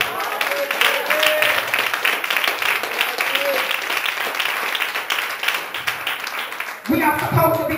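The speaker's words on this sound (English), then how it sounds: "Clap your hands for Jesus" A church congregation at a women's conference claps along in a quick, uneven rhythm, with voices and shouts mixed through the clapping and a louder burst of sound near the end.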